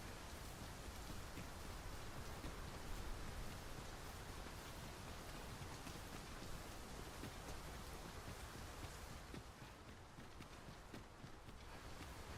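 Rain falls steadily in the fantasy video game Dragon's Dogma 2, a dense, even hiss of drops hitting the ground that stays constant throughout with no voices.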